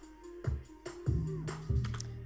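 A trap beat sample is played back in FL Studio, with deep booming 808 kick hits landing in a repeating pattern under a sustained synth tone and crisp hi-hat ticks. It is loud and dry, with no voices over it.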